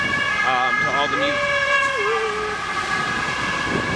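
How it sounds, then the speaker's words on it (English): An emergency vehicle siren wails along a rainy Gothenburg street, its rising and falling tone fairly clear over steady traffic and rain noise, with no talking. "You don't hear a lot of sirens here."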